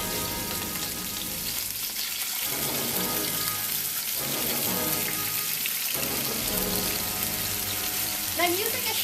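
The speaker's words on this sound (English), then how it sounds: "And I'm using a shallow frying pan for this." Marinated pork fries in a shallow pan, a close, steady sizzle with crackling pops and bubbling that swells and eases in waves.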